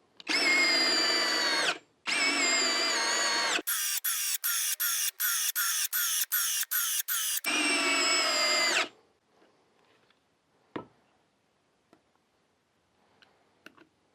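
A Hyper Tough 12-volt brushless drill whirs loudly up close in long sustained bursts, then runs in a fast series of short pulses before one more long spin and a stop, leaving faint clicks and handling noises.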